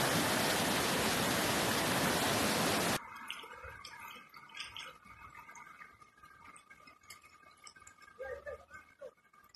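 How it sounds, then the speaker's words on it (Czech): A creek in Bresnica rushes over a drain shaft that cannot take the flow, a loud broadband roar for about three seconds before it drops to softer trickling with scattered clinks. "šahta ne može da primi. Potok će da prelije."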